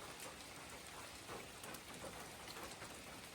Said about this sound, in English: I hope you can hear the rain.